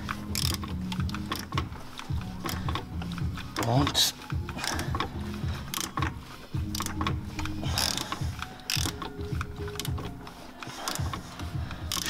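A BMW E46, E87 or E90 engine runs after a defective VANOS camshaft adjuster is replaced, giving a steady mechanical clatter and chain-like ticking from the engine bay, close and continuous, with a brief voice speaking over it.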